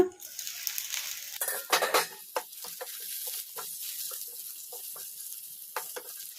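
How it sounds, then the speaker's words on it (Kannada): Metal utensil scrapes and clinks against a pot of eggplant curry in uneven strokes, with a soft bubbling simmer underneath, close by and fairly quiet. "ಒಂದ್ಸಲ ಮುಚ್ಚಳ ತೆಗೆದು ನೋಡಿ ಕಲಿಸ್ಕೊಂಬಿಡೋಣ"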